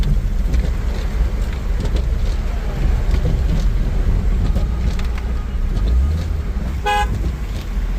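A car drives along a flooded road in heavy all-day rain, with a steady wash of water and rain noise, then one short, loud horn toot near the end.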